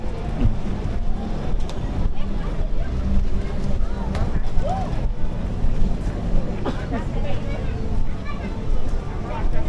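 A boat motor runs steadily on open water, its drone mixed with wind buffeting the microphone and splashing waves, continuous throughout without a break.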